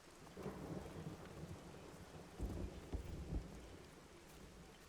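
Steady rain falls in a video game, Everybody's Gone to Rapture, with low rolling thunder rumbling twice in the middle, all faint and distant without any voices.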